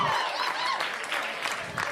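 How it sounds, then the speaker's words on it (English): A stand-up comedy audience applauding in a dense, steady burst of clapping from a crowd, with a voice audible alongside. "Man, round of applause."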